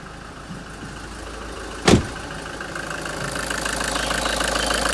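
A Hyundai Terracan engine idles steadily at close range after warming up, a low continuous rumble with a brief sharp click near the start, growing slightly louder.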